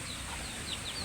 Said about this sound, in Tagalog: Ayan yung manok niya.